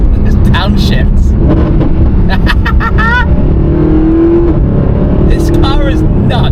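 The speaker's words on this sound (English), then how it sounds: "There's downshifts." A Mercedes SLS engine rumbles steadily with rising and falling tones as it downshifts, a sustained low drone running throughout, while a person talks over it.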